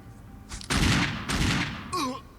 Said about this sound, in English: I saved my magnum bullets exactly for this, and only 3 shots is enough to take him down